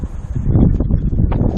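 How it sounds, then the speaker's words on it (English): Wind blowing hard outdoors near a house, a loud steady rushing buffet across the whole moment, with no voices over it. "except for the fact that it's really windy"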